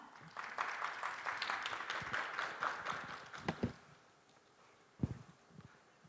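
Applause from an audience at a government innovation fair stage event, moderate clapping that swells for a few seconds, then thins into scattered claps and a couple of louder close taps.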